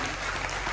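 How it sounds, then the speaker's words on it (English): An audience at a vloggers' Q&A session aboard the cruise ship NCL Breakaway gives a brief, loud, full round of clapping, a thick continuous patter with no talking over it. "Can we give all of these guys a massive round of applause?"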